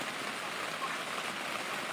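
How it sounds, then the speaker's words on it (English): Cold rain falls steadily outdoors, a dense, even hiss of drops with a faint gurgle of running water underneath and no voices. "I don't understand why this rain been coming down the way it's been coming down."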